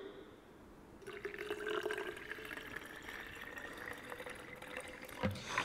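Cider vinegar poured into a sauce for smoked spare ribs, a faint trickling liquid pour that starts after a quiet moment and runs steadily, ending with a small clink.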